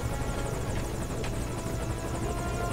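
Helicopter in Metal Gear Solid V with loud, continuous rotor chop and engine whine, steady and close, with no talk.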